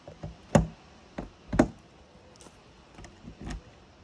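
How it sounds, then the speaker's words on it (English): A motorhome's rear garage door is unlocked and its latch buttons popped open, giving several sharp, close clicks and knocks with quiet gaps between them. "you just unlock it like that, and you pop open those two buttons and then pull the door back"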